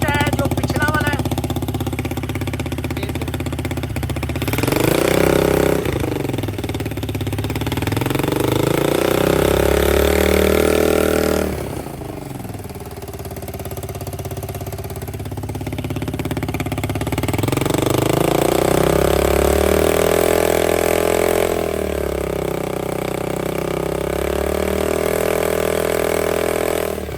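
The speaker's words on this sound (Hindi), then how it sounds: "ये हमारा एग्जॉस्ट है जो पिछला वाला है" A motorcycle idles through its old exhaust, a steady, close, low rumble that swells and dips in pitch over about half a minute as the throttle is blipped.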